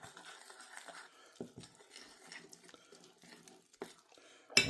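Water is poured into a bowl of split mushrooms and stirred, giving soft intermittent splashes and scraping clinks in a quiet kitchen, ending with a sharper knock.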